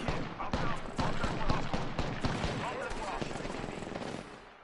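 Rapid automatic gunfire in the Apex Legends video game, dense overlapping shots from several guns with sharp cracks throughout, close and loud, fading slightly at the end.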